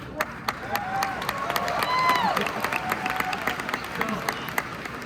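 Scattered audience clapping breaks out in short bursts, fairly faint and mixed with crowd murmur, while a person talks over it with rising tones.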